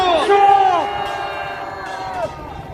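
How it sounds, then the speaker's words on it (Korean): A rally crowd cheers with loud, sustained shouts and whoops from many voices, a dense roar that holds steady before easing off. "큰 박수 한번 해주십시오."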